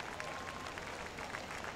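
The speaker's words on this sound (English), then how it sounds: "Appreciate the applause there" Faint, distant crowd applause at a racetrack during a World Series racing event, a soft continuous patter of clapping heard from afar.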